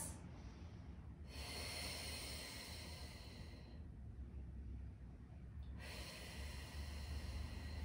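Steady, slow breaths held through a glute-driven hip lift in a floor exercise, three long hissing inhale and exhale cycles close to the microphone, alone with no talking.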